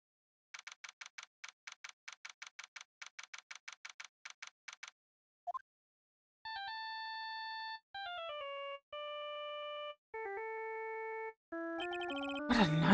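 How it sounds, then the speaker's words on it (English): A phone ringtone from the Phoenix Wright: Ace Attorney video game plays alone as a rapid series of electronic ticking chirps, then a chain of stepped descending beep tones ending in a brighter jingle. "I bet it was this ringtone that caused it."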